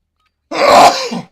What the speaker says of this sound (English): excuse that sneeze